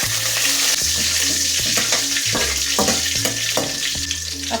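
Cumin, fenugreek, about ten garlic cloves and curry leaves fry in hot oil for a brinjal tamarind curry, with a loud continuous sizzle and repeated spoon stirs scraping the pan up close.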